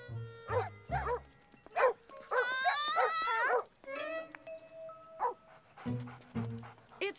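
Two dogs with a dog walker in a park in an animated children's cartoon bark, yip, and whimper in a string of close, loud outbursts, with a long whining moan in the middle.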